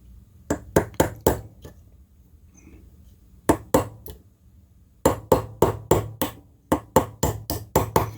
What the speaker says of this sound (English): I'm just going to tap this one out to start with